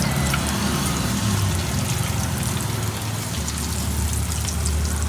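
Vegetables and mushrooms with ginger, garlic and potato sizzle and crackle in hot oil at a Jaffna street food stall, a dense steady frying hiss running continuously and fairly loud with no talk.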